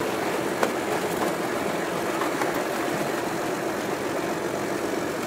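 An icebreaker ship working the frozen Bodrog river in a harbour gives off a continuous broad engine rumble mixed with grinding wash, steady and fairly close, with no talking.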